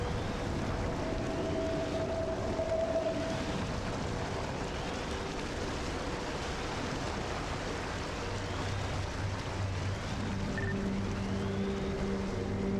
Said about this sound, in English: Engine is up